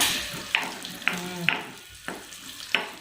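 Food fries in ghee in a pan, a steady sizzle broken by regular sharp scraping strokes of a stirring spoon, close and fairly loud. There is no talk.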